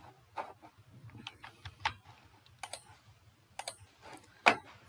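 Bangla being typed on a computer keyboard: irregular bursts of light key clicks and taps, close and fairly quiet over a low steady hum, with no talking.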